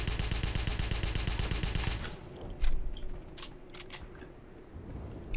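In the Wolfenstein game, a rapid, loud burst of gunfire is aimed at a zeppelin, with evenly spaced shots for about two seconds. Then it stops, leaving scattered clicks and quieter ambience.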